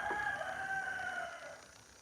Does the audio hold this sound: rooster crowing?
yes